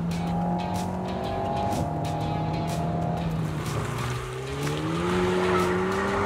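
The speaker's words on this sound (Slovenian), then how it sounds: "Pihanje in žvižganje in kihanje turbine in pokanje in brbotanje v izpušni cevi." A Renault performance car engine running with rising tonal whine from the turbocharger and a rough, burbling exhaust, loud and close, sweeping upward in pitch near the end with no talk over it.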